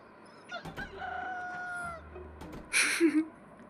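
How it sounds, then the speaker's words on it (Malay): A rooster crows in one long drawn-out call, followed by a louder burst of squawking clucks, with an electronic, game-like quality, in the Roblox game Rob the House. "Bunyi ayam lah."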